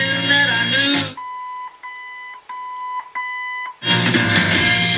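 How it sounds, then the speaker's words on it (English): Loud music cuts out and a thin electronic beep tone from an original AM/FM radio in a 1970 Ford F100 sounds alone, stuttering through a few brief breaks before the music bursts back in. "It'll beep once and go back to treble and bass."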